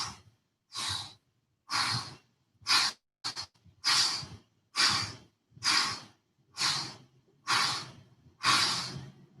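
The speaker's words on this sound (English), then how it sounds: "Make sure your exhaling as you go down." Rhythmic breathy exhalations during push-ups in a fitness workout, about ten sharp puffs of breath spaced roughly a second apart, close and clear with silence between.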